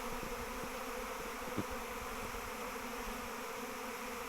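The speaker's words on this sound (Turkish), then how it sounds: "Toplandı arı, arı yavaş yavaş." A dense, steady buzz of a honeybee swarm gathering hums continuously, close and enveloping, with occasional individual bees droning past.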